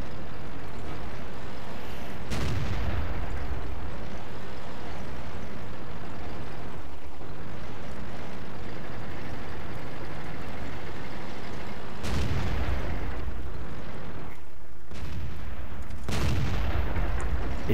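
Loud tank cannon shots boom in World of Tanks from a Tiger II, three heavy blasts spaced apart over a constant engine and battle rumble, with no talking.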